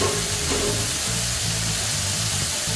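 A ladle of Madras curry base hits a hot pan and sets off a loud, dense sizzle that stays steady and close for the whole stretch.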